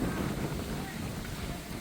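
Wind at the Ambaji temple grounds blows steadily across the microphone in a soft, continuous rumble and hiss, with no distinct gusts.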